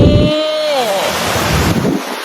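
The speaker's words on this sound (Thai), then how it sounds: "ได้ยินเสียงคลื่นไหมคลื่นคลื่น" Sea waves washing onto a beach, a steady broadband roar with strong wind buffeting the microphone; a brief voice-like tonal sweep at the start, then continuous surf.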